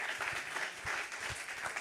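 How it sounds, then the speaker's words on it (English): Brief applause from an audience at a yachting technology conference in Monaco, a soft steady patter of clapping heard at a distance. "please give him a round of applause."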